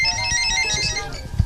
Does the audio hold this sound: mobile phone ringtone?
yes